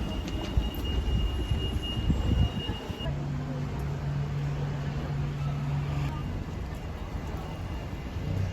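A London suburban train on the Shepperton line runs along the rails with a steady, close rumble and rattle, while a thin wheel squeal whines through part of it.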